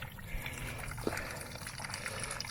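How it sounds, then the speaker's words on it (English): Water trickles steadily and softly on a mountain trail near Ogden, Utah, a continuous faint wash of running water throughout with no voices. "it's fun to hear water"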